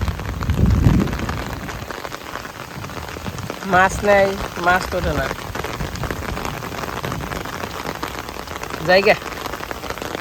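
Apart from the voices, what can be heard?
heavy rain falling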